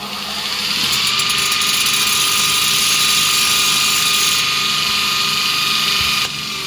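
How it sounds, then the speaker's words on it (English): Loud, continuous high-pitched grinding whine of a linisher belt sander working metal panel, steady for several seconds before cutting off abruptly near the end. "Let's take this over to the linisher."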